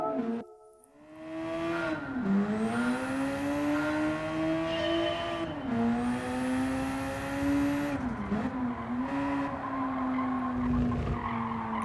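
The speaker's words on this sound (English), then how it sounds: "Let's take a little white Copen out on the Trial Mountain Circuit" White Daihatsu Copen in a racing video game lapping Trial Mountain Circuit, engine droning steadily with rising and falling pitch through gear changes and corners, tires squealing through bends, loud and continuous with no talk.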